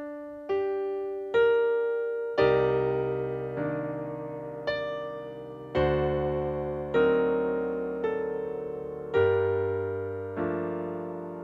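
Slow piano rendition of the Howl's Moving Castle theme, a steady sequence of single notes and full chords struck roughly once a second, each left to ring with held bass, close and unaccompanied.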